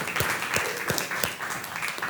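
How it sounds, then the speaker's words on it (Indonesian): A class of eighth-grade pupils claps together in a room, producing a brief burst of rhythmic, fairly close hand claps in rough unison. "Tepuk tangan."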